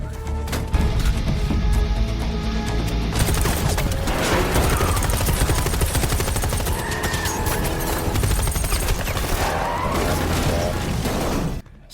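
Dense, continuous machine gun fire fills a night battle scene in a Korean film, with overlapping bursts, crashes and impacts that stay loud and close throughout, ending in an abrupt drop.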